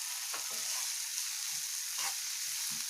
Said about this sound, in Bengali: খুব বেশি আমি নাড়বো না, হালকা একটু ভাজা ভাজা হলে